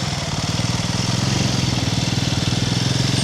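A motorcycle engine runs steadily at low revs during slow-speed riding practice around cones, a close, even, pulsing putter that holds constant with no talk over it.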